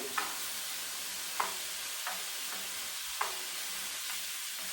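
Continuous sizzling of potatoes and ground pork being stir-fried, with a few spaced spatula scrapes against the pan cutting through the steady frying hiss.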